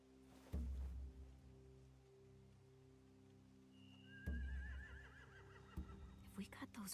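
Horses whinny in The Walking Dead: The Final Season video game, one drawn-out neigh rising and wavering over low thumps and ambient game sound, with a voice speaking nearby.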